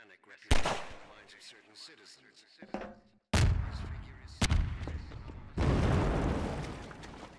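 Gunfire in Half-Life 2 blasts away at explosive barrels to bring down a gate, loud sharp shots followed by heavy booming detonations and rumbling debris, close up, with stretches of sustained roaring noise.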